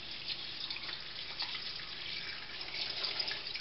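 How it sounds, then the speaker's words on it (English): Tap water running into a pot as two quarts are measured in for cob jelly, a soft steady hiss and splash with no talk. "Put 2 quarts of water in it."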